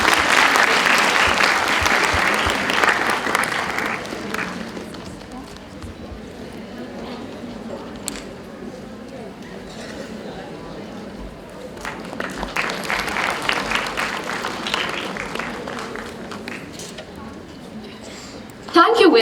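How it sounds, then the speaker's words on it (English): Audience applause at a felicitation ceremony during a memorial ADR and client counselling competition, loud clapping at the start that fades under a murmuring crowd, then swells again near the end. "May we have a huge round of applause, everyone."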